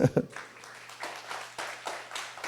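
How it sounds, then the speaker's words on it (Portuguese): A church congregation claps in praise, a few loud close claps at first and then a spread-out wave of applause from the room. "Vamos aplaudir Jesus"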